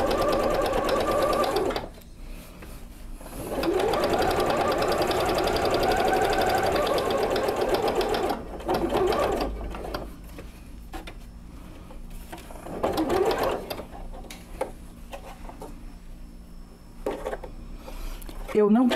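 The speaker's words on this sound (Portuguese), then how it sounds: "Agora, nós vamos passar a costura sobre a junção entre duas costuras. Então, nós vamos fazer um quilting reto." A sewing machine does straight-line quilting across the join between two seams on a patchwork piece, running in loud, close bursts of fast rhythmic stitching with pauses, while someone talks between runs.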